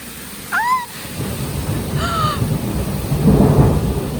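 Thunder from a lightning storm rumbles low and builds toward the end, while a crow caws twice in the foreground over steady rain-like noise, with no talking.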